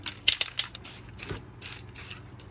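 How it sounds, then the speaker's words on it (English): Several short hissing bursts of spray paint from a can, spaced out with small clicks and rattles between them, close and fairly quiet. "pop the top and do a little test spray off to the side"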